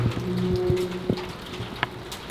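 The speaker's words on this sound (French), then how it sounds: "c'est toujours avec toi, il pleut" Rain falls outdoors near a shop, a steady hiss and patter with a few sharper drips and taps over a low background hum.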